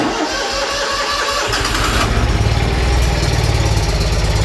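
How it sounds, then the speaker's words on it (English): A lawn mower's small gasoline engine cranks briefly, then catches and settles into a loud, steady idle running rough on one cylinder. No voices are heard. "And let's see if she'll start."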